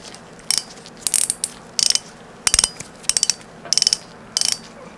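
Bursts of rapid metallic clicking from the drag of a Shimano Stellar 2500 spinning reel, coming in short ratcheting spurts about every second, close and crisp over quiet background hiss.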